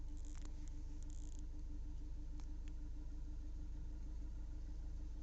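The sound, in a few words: Kia Seltos diesel engine idling, heard inside closed cabin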